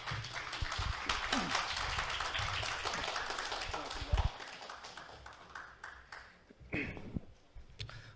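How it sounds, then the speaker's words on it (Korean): A conference room of people claps in a sustained round of applause welcoming a speaker, gradually thinning out, with a few louder taps near the end. "큰 박수로 모시도록 하겠습니다"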